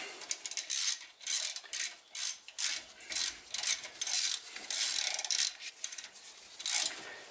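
A ratchet chasing the threads of a wheel stud on a 2010 Ram 2500 Cummins Mega Cab pickup, a rapid clicking rasp in repeated short strokes with brief pauses, close and without voices.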